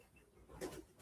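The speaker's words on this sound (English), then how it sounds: "The bloody pigeons tonight. They're back." Pigeons coo indoors during a South Norfolk Council evening meeting, a brief low soft call rising once in the middle and again at the end.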